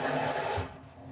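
Tap water pours over rice being rinsed in a kitchen, a loud steady hiss of running water that stops partway through and leaves faint drips and trickles.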